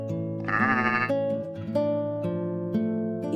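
A goat gives one loud, wavering bleat up close, followed by a sustained tonal background that sounds like music, with no talking.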